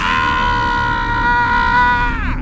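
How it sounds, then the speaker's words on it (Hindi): A long, loud, sustained high-pitched scream used as a horror story sound effect, coming from inside a room. It holds steady for about two seconds and then falls off sharply. "एक जोर की चीख उस कमरे के अंदर से सुनाई देती है"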